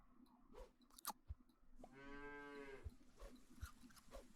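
A single drawn-out cow moo sound effect from the Super Auto Pets game, a clear mid-length lowing call in the middle, framed by soft clicks and taps.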